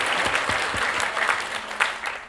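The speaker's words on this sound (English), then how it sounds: "Big round of applause for them." Wedding guests at a toast applaud the couple's parents with steady, moderately loud clapping and a few sharper individual claps standing out from the crowd.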